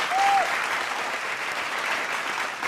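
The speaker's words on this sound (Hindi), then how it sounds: "स्वागत करेंगे जोरदार तालियों के साथ" Steady, enthusiastic applause from a crowd, a dense wash of clapping that holds at the same level throughout.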